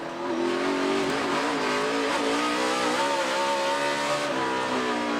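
A Toyota NASCAR Sprint Cup race car at the Save Mart 350 downshifts with wheel spin, its loud, close engine wailing and shifting pitch continuously, with no talking.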